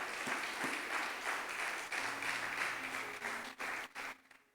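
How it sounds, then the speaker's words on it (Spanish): Church congregation applauding during a Spanish-language sermon, a broad sustained wash of clapping that thins and breaks into a few final bursts before fading out. "Démosle un fuerte aplauso al Señor esta mañana"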